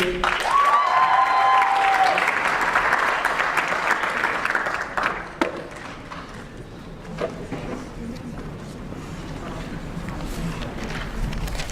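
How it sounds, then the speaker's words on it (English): A live audience at a student union poetry slam breaks into sustained, loud applause for a performer, clapping steadily for several seconds before it thins and fades into scattered claps and room murmur. "Please give her a round of applause to Rakaya Najmi."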